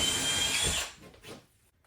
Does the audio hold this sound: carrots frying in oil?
no